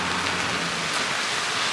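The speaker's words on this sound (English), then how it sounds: "Raining pretty good today for the first time actually in 30 days." Steady rain falls on a wood yard as a dense, even hiss with no pauses, fairly loud and close; no talking.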